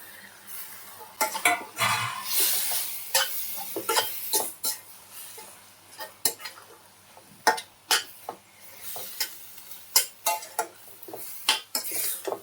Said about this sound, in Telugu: ముందుగా మనం కట్ చేసి పెట్టుకుని దొండకాయ ముక్కలను వేసుకుందాం.